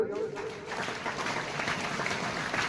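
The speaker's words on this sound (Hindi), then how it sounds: "ताली बजाओ इसके लिए" Schoolchildren in a classroom break into steady, dense applause that carries on evenly for a few seconds after a teacher's brief speech.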